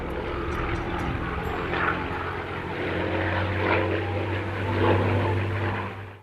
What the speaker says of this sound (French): C'est à bord d'un avion identique à ceux de l'escadron, un Avenger datant de la Seconde Guerre mondiale